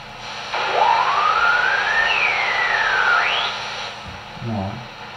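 A strange shortwave radio signal with cartoon-like UFO tones: a loud warbling pitch sweeps slowly upward, jumps, then glides down and back up over steady static hiss, ending with a short low wobbling burst.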